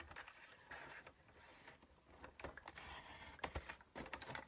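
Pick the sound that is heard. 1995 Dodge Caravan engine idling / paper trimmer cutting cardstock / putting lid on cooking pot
paper trimmer cutting cardstock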